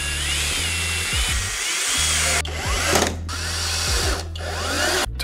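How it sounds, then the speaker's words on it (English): A power drill drives screws into a DIY motherboard holder for a case fan testing machine, loud close whining motor runs that rise and drop in pitch as each screw seats, with brief stops between bursts. "now let's just add some screws for good measurement, just to be sure that this never comes apart"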